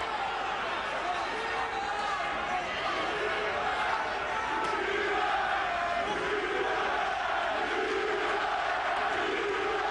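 Boxing crowd in a Sheffield arena chanting Eubank's name, a dense, sustained rhythmic chant from a large audience filling the hall, with a commentator's voice running over it.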